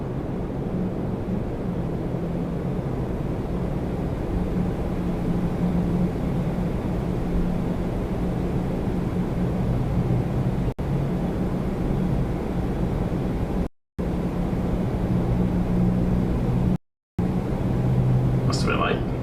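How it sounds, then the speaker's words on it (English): An Air Transat Airbus A330-200 taking off from Toronto Pearson bound for Montreal, heard as a steady distant jet roar with a low hum that stays even throughout, as voices talk quietly over it. "let's do Transat 521, an A330-200 off to Montreal. Another graceful butter machine takeoff."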